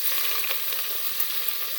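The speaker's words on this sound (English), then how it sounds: "Now keep frying the onions till they're golden in color." Onions sizzling in hot oil in a pan, a steady close crackle and hiss with small pops, loud and continuous with no voices.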